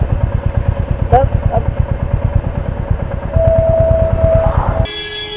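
Motorcycles, a Royal Enfield Classic 350 and a Yamaha R15 V3, accelerate in a drag run. A loud, steady pulsing engine drone runs under a man's speech, with a brief horn-like tone near the end.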